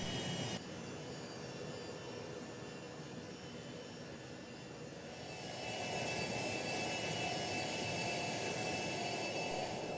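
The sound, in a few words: Citation C-560XL jet taxiing in AirSim3D flight simulator game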